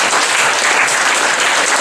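Loud, dense applause from a crowd at a business awards event, steady clapping filling the whole moment without a break.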